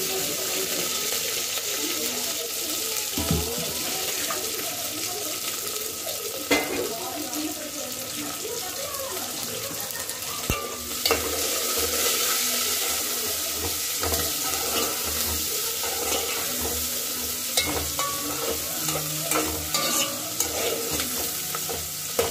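Onions and green chillies fry in a pot and are stirred with a spoon, giving a steady hiss with repeated scraping and clinks throughout, near and moderately loud.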